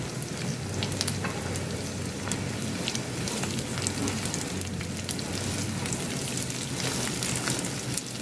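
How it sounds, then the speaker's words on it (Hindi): Vermicelli cut into one-inch pieces roasting in a pan for sheer khurma, a steady soft crackling sizzle with scattered tiny pops, close and even throughout, with no talking. "तो इस तरह सवैयाँ भी डाल के रोस्ट कर लूँगी इसमें"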